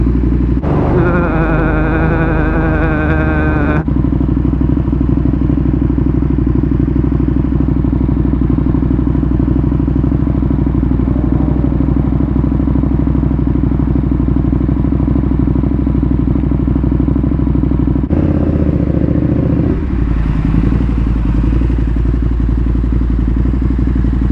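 A KTM Superduke 1290 R motorcycle engine rumbles loudly and close up, a deep steady idle broken by brief sharper revs near the start and end, with wind and road noise around it.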